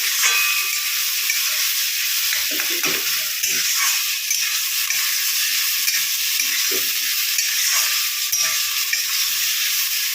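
Ash gourd curry with chickpeas sautéing in a pan gives a steady, loud sizzling hiss throughout, with occasional soft stirring scrapes and no talking.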